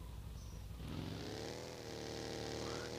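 A car engine drones and revs steadily in PUBG Mobile Lite gameplay, rising in pitch as the vehicle accelerates, with continuous game ambience throughout.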